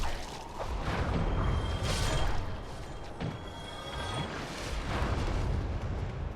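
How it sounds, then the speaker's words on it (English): In the game Dark Souls, a dark fog spell is cast, producing a loud, rumbling, roaring wash of dark noise with whooshing surges and crashes, continuous throughout with no talking. "That's the sound of dark fog going right there."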